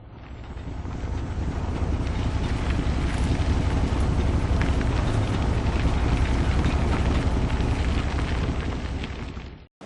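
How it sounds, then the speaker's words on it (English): A sea tractor crossing a causeway to an island gives a steady, loud, broadband engine rumble and wash that holds unbroken for nearly ten seconds before cutting off. "This sea tractor is a rare contraption, isn't it?"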